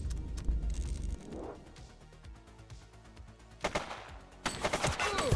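Gunfire in the police video game The Precinct, a few sharp bursts of shots that are fairly faint at first, then a louder rapid volley near the end.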